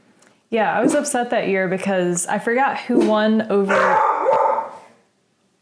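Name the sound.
dog barking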